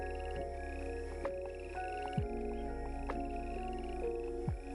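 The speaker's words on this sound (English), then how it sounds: "The frogs are pleasant." Frogs croak in a repeating rhythm, each call a short rising note over a steady low hum, faint and continuous.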